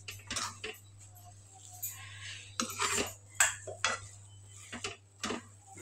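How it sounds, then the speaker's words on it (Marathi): Hot rice-flour vermicelli dough being stirred in a pan, giving irregular scraping clinks of a utensil against metal, fairly close, with quiet pauses between strokes and a steady low hum underneath. "इथं व्यवस्थित परत एकदा मिक्स करून घेते मी।"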